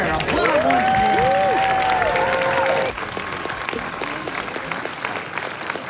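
Audience at the New Orleans premiere of the film Renfield breaks into loud, dense applause with a voice rising over it for the first few seconds, then the clapping continues a little softer.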